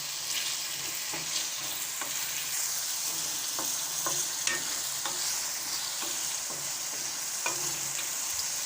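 Potatoes fry in a karahi with a soft, steady sizzle while a spoon stirs them with scattered light scrapes and taps. The sound is close but fairly quiet, and no one speaks.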